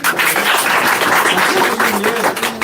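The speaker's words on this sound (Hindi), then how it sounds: "एक बार ताली बजाइए।" A group claps in steady, close applause at a gathering celebrating successful teacher-exam candidates, dense and continuous with faint voices mixed in.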